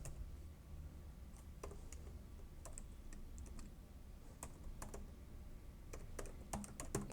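Typing on a computer keyboard while entering text in MS Word, with faint, irregular clicks of keys coming in quick bursts and short pauses, quiet and alone.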